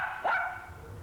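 A single sharp dog bark rings out at a crowded animal shelter, fairly close and clear, then fades into a quiet low background with no talking.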